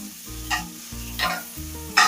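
Onions and garlic fry in a pan with a soft sizzle, broken by three short bursts of scraping and stirring at even intervals.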